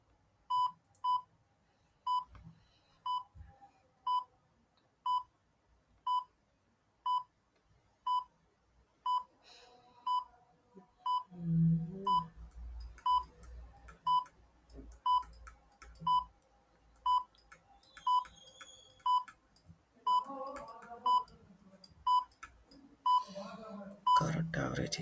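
A countdown timer gives short, even electronic beeps about once per second, steady and clear for the whole stretch, with brief voices and a few other sounds briefly in between.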